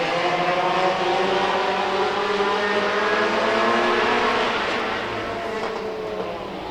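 Race cars in a short-track heat roaring past together, a dense, sustained engine drone that stays loud and then eases slightly toward the end, with no voices.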